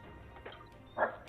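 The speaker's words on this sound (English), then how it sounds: "That was a loud dog" A single loud dog bark bursts out once, close by, against quiet background noise, with a fainter yelp or sound just before it.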